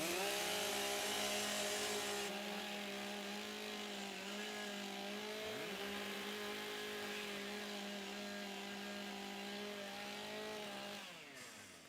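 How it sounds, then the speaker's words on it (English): STIHL chainsaws warming up at a timbersports championship, a loud sustained buzzing engine drone with pitch wavering and a brief dip midway, easing off near the end. "Warm up your saws."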